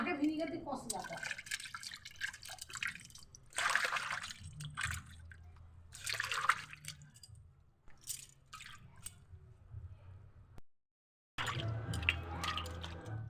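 Something is washed by hand under running water, with splashing, dripping and squishy wet handling in uneven bursts, fairly close, with gaps and a brief silence; people talk over it.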